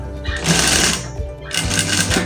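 A sewing machine stitches over gathered, ruched fabric in two close, loud bursts of rapid mechanical whirring and needle chatter, separated by a short pause.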